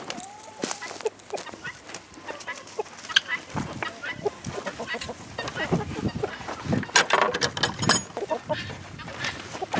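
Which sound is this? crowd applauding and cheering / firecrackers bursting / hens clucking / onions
hens clucking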